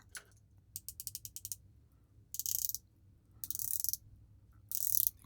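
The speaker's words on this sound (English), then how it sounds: "The bezel is very hard to turn." A stiff rotating bezel on a Spinnaker Dumas Sahara SP-5081-CC watch being turned, giving quiet, close ratcheting clicks: first a quick run of separate clicks, then three short bursts of grinding rasps.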